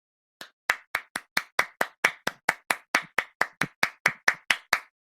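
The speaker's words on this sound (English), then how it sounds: "arm the track and record some claps" About eighteen sharp hand claps in an even, steady rhythm, close and dry with silence between each, recorded onto an audio track in Ableton Live.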